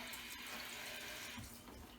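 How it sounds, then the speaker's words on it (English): Warm water runs from a bathroom tap to wet a cleaning cloth, giving a faint, steady rushing stream that flows unbroken from start to finish. "I'd get this wet with warm water"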